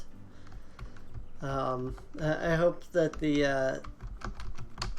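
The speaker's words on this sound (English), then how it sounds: "Hopefully the typing isn't too obnoxious. I kind of have the microphone next to the keyboard." Computer keyboard typing right next to the microphone: rapid, irregular close key clicks running throughout, partly under someone talking in the middle.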